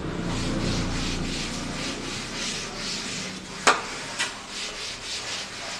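Rubbing out writing on a classroom board, steady swishing strokes of the eraser followed by a couple of sharp knocks, with no talking.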